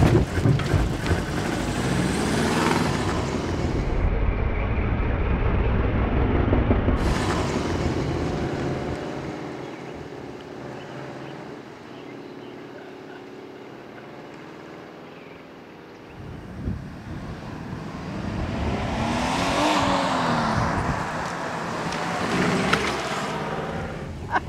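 An engine from a rebuild project starts and runs in first gear, a loud rumbling swell that fades into a quieter stretch before rising again, with heavy wind buffeting the microphone throughout.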